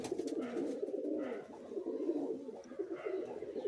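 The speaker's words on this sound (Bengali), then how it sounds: "এই এক জোড়া আন্ধা পায়রা দেখতে পাচ্ছেন।" A pair of Andha pigeons coo close by in a soft, repeated, throaty rhythm, with faint higher chirps drifting in the background.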